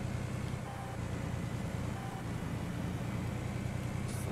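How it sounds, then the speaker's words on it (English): A truck engine in Farming Simulator 19 idles and coasts off the throttle with a steady, dense low rumble throughout, joined by faint thin tonal whines, with no talking. "This truck has a definitely unique sound when you take the finger off the gas"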